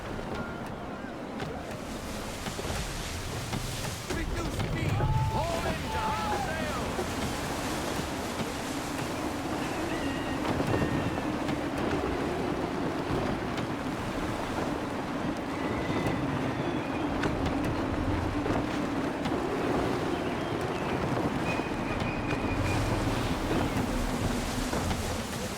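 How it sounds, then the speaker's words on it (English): Gusty sea wind in Assassin's Creed III Remastered, a steady broad rush over rolling surf and a creaking sailing ship, continuous and loud throughout with small swells in strength. "Wind looks to be shifting. Stay alert, Connor. Gusty winds can be difficult to manage."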